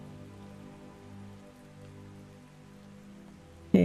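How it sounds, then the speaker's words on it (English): Steady rain falls on a desert in the video game Ark Survival Ascended, a soft, even patter holding at low level for several seconds before a sudden louder burst cuts in at the very end. "It's raining in the desert."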